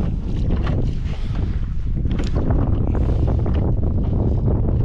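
Strong outdoor wind buffets the microphone in a steady, loud low rumble that runs the whole time, with gusty swells and no speech.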